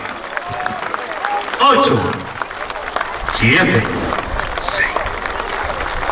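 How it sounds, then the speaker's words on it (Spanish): A festival crowd applauds for San Antonio de Padua at a fiesta in San José de Allende: sustained, dense clapping throughout while a man counts down over a loudspeaker. "Acompáñenme con los aplausos de 10 y 10 segundos."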